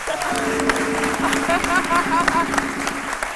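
A studio audience applauds a reggae guest entering the crowd, steady clapping over music with voices talking and cheering on top.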